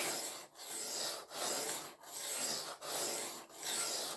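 Steady rasping strokes of a blade drawn across a sharpening stone while a new Aurillac knife is sharpened, about six long even passes with brief pauses between, close and moderately quiet.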